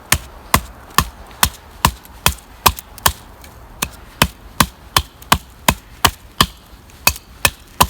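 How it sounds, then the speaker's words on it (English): An ESEE 6 knife with 3D contoured handles chops into wood in a steady series of about fifteen sharp, evenly spaced strikes, close and loud with no talking. "So I really want to try to keep a grip on this and see what it feels like to chop."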